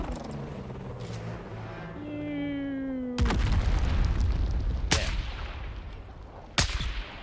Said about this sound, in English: Let's see if I can long range this missile at him.